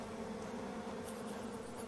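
Bees in the survival video game Retreat to Enen give off a faint, steady drone that holds evenly throughout without any talk.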